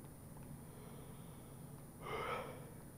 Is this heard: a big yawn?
yes